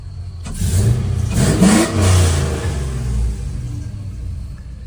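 A GMC Silverado truck engine fitted with long tube headers revs hard up close, a deep loud rumble that swells and eases over several seconds with no talking.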